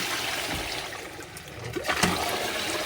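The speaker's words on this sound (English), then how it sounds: "Oh my God, I love the different options of flushing." A toilet in a Swedish Airbnb bathroom in Täby flushes as a steady, close rush of water that swells and splashes briefly near the end. There is no talking.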